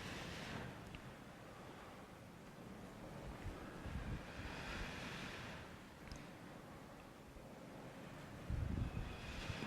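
Ocean surf rolls in steady washes over a continuous layer of wind rumbling against the microphone, with a brief louder gust or splash near the end and no one talking.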